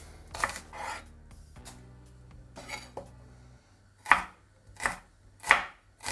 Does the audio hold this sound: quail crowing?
no